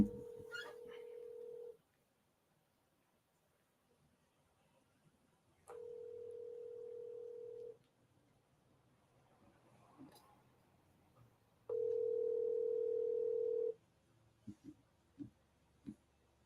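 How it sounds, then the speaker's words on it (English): A phone call rings out as three evenly spaced ringback tones, each about two seconds long, with near silence between them, followed by a few faint clicks. "So let me call him again and see what's going on."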